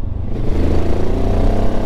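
Benelli TRK 702 X motorcycle engine pulling in third gear, a steady loud low engine drone with a slight vibrating clatter, close and continuous with no talk.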